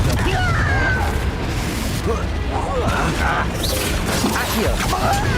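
Fire spell blasts and magical combat bursts from Hogwarts Legacy, dense crashing and booming effects layered under continuous game music and battle noise, with a voice calling out spells.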